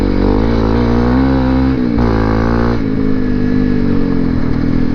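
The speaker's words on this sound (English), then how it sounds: "And the bike sounds really good with the FMF exhaust." A Honda CRF250L Rally motorcycle fitted with an FMF exhaust rides a national forest fire road, its engine loud, close and continuous, with a brief shift in revs partway through.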